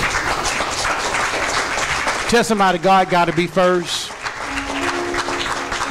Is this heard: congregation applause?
yes